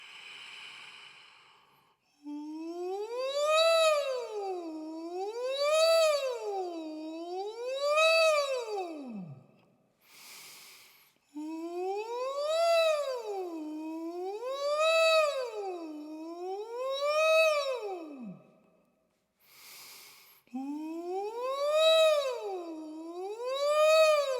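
A voice imitates a siren in head voice, sliding smoothly up and down in repeated wailing sweeps, three phrases separated by short breaths, loud and close.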